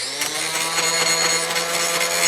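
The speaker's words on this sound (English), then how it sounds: "I'm going to do a little bit of grinding here to remove some of the crap that's on there." A power grinder works over steel on a rake to clear off concrete crust, with a steady high whine and gritty rasping texture that hold at a constant level throughout, close and loud with no talk.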